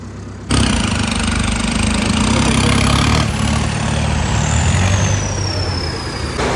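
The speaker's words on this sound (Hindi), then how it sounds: "और देखो सोनू लेके चल दिया ट्रैक्टर को" A Sonalika RX tractor with a trolley runs at a steady idle, a loud continuous diesel rumble starting abruptly and holding close throughout, with a faint high whine above it.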